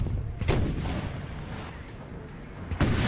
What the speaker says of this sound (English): I'm wondering if they're actually going to reman the cannons. Now they're switching. Could they be firing for my general?